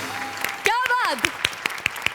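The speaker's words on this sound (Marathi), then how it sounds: "टाळ्या" An audience at a Marathi comedy sketch show claps in sparse, separate hand claps after a short stretch of speech.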